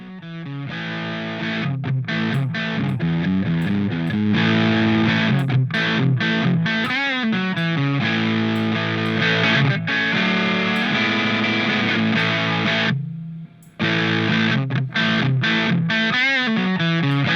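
Electric guitar through a Boss DS distortion plugin, heavily distorted sustained chords and riffs, loud and saturated, with a brief drop to near silence before resuming.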